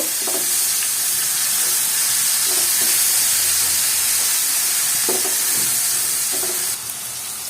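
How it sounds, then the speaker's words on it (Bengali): Onion and garlic fry together in oil, a loud, continuous hissing sizzle close up, with a few faint stirring scrapes and knocks in the background. "রসুন দিয়ে পেঁয়াজ রসুন একসাথে তেলের মধ্যে একটু ভেজে নেব"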